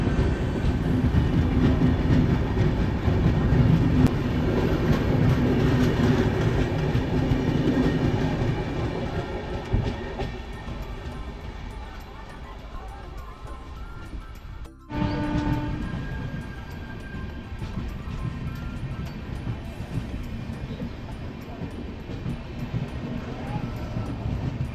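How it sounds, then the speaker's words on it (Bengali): Sealdah-Haldibari Express passing close by a halted train at a station, a loud rumbling rush of wagons with rhythmic clatter that drops off briefly, then resumes with a horn-like tone and continued rolling noise. "এখন ক্রস করছে শিয়ালদা হলদিবাড়ি"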